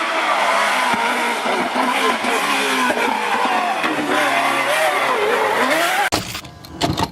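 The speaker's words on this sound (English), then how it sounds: "This Peugeot Rally car is powered by a V16." A Peugeot rally car with a V16 engine roars steadily at high revs, loud and close, its pitch rising and falling through gear changes before cutting off abruptly near the end.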